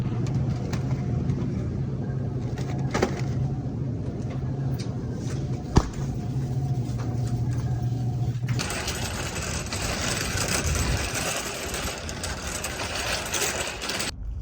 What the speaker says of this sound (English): in the car, we're driving away